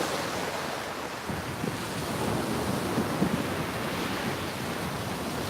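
Wind blowing outdoors at night, a steady, close rushing roar buffeting the microphone with no pauses, slightly gustier partway through.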